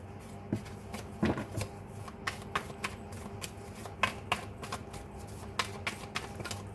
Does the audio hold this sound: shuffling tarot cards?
yes